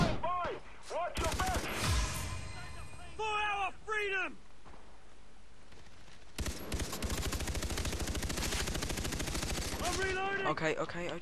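Gunfire in the first-person shooter Far Cry 3, with bursts of rapid shots cutting in and out over loud game music and effects, and a voice talking between them.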